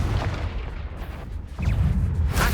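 Confringo blasting spell going off in Hogwarts Legacy: loud, rumbling explosive bursts with a steady low boom, a brief dip, then a renewed heavy blast near the end, with no talk.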